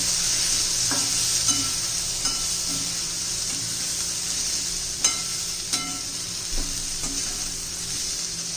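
Onion-garlic masala frying in hot oil for a spicy pavta bhaji curry, a continuous bright sizzle with occasional spoon clicks and scrapes against the pan, with no voices.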